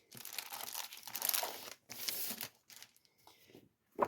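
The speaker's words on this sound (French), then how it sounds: "ça fait plein de bruit, en fait, parce qu'il y a plein de plastique." Plastic packaging and wrapping paper being opened up close, with bursts of crinkling and rustling separated by short pauses and a sharper crackle at the end.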